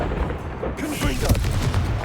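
A Confringo blasting curse bursts in Hogwarts Legacy, giving a booming, crackling explosion with a short rumbling tail. A voice can be heard over it.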